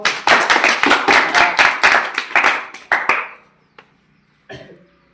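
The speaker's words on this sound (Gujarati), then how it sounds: "પહેલો નંબર કંચાનો આવે છે જોરદાર તાળી પાડો" Schoolchildren in a classroom clap together in a loud, rhythmic burst of about a dozen sharp claps over three seconds, then fall quiet apart from a single tap and a brief rustle.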